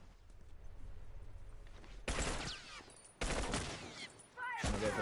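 Gunfire in a The Last of Us multiplayer esports match, sounding as three loud, abrupt bursts of shots, each cut off suddenly after about a second, over quieter background noise and faint talk.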